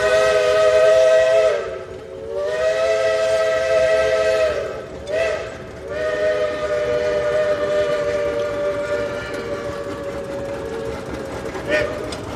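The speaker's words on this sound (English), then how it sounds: "That whistle blowing there was a Rock River Cannonball Express train that goes around the park." A steam train whistle from a park excursion train at a tractor show blows in long sustained harmonic blasts, with short breaks and a final tapering note, while people chatter faintly in the background.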